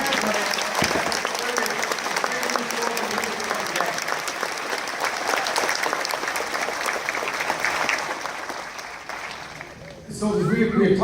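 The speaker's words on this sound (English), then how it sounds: "please, families, join me in a round of applause as we recognize the tremendous efforts that they and all the families." Audience applause for drill sergeants at a military ceremony: dense, steady clapping from a large crowd that carries on for about ten seconds, tapers off, then a brief spell of nearby voices at the end.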